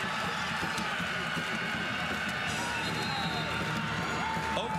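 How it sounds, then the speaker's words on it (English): Crowd at a women's college basketball game in Stillwater, Oklahoma State hosting TCU, roars in a continuous, frenzied wash of cheering during a fourth-quarter timeout, with an announcer talking over it. "a timeout from J.C. Hoyt sends the crowd into a frenzy in Stillwater"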